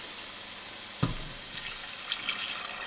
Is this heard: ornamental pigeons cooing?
no